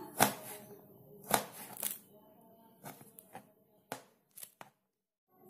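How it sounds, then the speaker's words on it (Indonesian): Knife strokes slicing ingredients into thin, small strips for chicken-claw pempek, several distinct sharp cuts spaced irregularly with quiet gaps between them, close and fairly faint. "nah diiris kecil-kecil seperti ini ya"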